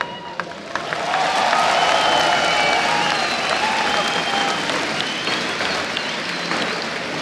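A large esports arena crowd at a League of Legends grand final claps loudly and steadily in sustained applause, with faint cheering mixed in.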